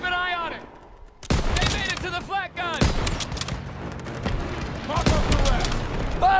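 Gunfire in a World War II Call of Duty campaign battle: repeated loud shots and bursts close by over a din of combat, with soldiers' voices shouting throughout.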